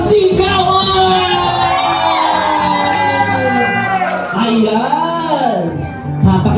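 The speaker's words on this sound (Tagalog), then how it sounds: "Palakpakan na may kasamang sigawan!" At a birthday celebration, a crowd shouts, whoops and cheers loudly and continuously, with sustained yelled voices rising and falling over a dense background of noise. Distinct handclaps are hard to pick out.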